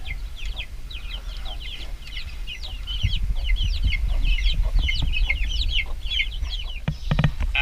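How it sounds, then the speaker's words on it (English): A free-range Americana hen clucks in a rapid, near-continuous run of short calls close by, over a low outdoor rumble. "Our resident free-range hen, Hedwig"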